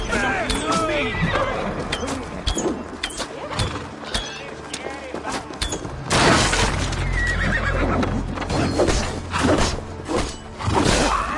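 Horses whinny and neigh repeatedly amid clattering hooves, whooshes and shouted voices in a busy, chaotic battle scene at the siege of Paris in Assassin's Creed Valhalla.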